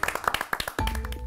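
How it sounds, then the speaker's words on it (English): A few people clap for cooking contestants on a studio set, a short run of distinct, uneven claps close by, giving way after a moment to music. "They all deserve a round of applause."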